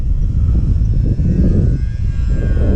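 Night Walrus model aircraft engine running at half throttle in very windy conditions, a steady, loud, close drone that holds throughout with wind noise, no voices.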